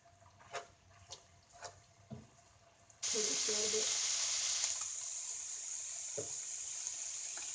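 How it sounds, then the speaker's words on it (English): Minced meat frying crisply in a pan for an allergy-free shepherd's pie, a few soft clinks and taps at first, then a sudden loud steady sizzle that carries on close and bright to the end. "you can hear that crispiness noise. That means the water's all drained out."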